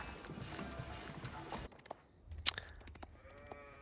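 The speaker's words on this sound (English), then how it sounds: "Scouting for sheep." In Age of Empires IV, sheep give a few short, fairly quiet bleats, mixed with soft hoof clip-clops and brief game effects.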